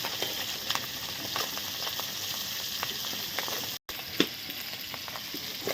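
Fish heads frying in hot oil, a steady close crackling sizzle with scattered pops and spits throughout, briefly cut out near the end before resuming.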